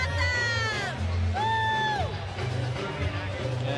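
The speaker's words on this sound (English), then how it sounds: "A lively crowd." A lively baseball crowd at a ballpark in a 2009 Marlins game, a steady roar of cheering and babble with rising whoops and whistles standing out near the start.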